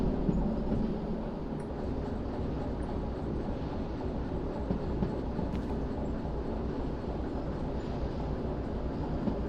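Locomotive rolling downhill at about 80 with the throttle cut in Derail Valley, a steady rumbling clatter of wheels and wagons sustained throughout at even loudness, with no voices.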